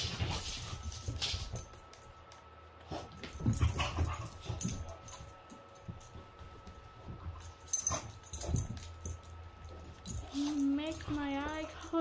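Dogs whimpering and yipping in the Hogwarts Legacy video game, with hoof clip-clop and carriage noise around them, intermittent and fairly close, mixed under talking.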